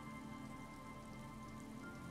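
Steady, lazily falling rain hisses over the reeds beside an abandoned campsite in Disco Elysium, a soft even patter with no voices.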